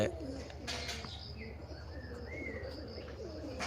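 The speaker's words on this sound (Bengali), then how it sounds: "এখনও দশ এগারোটা কবুতর আকাশে আছে" Pigeons cooing in soft, repeated low calls with faint chirps, heard outdoors under steady background noise while birds circle in the sky; distant and fairly quiet.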